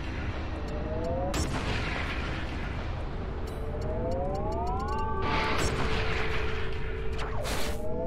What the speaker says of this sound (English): EMP missile, he is fried and dead.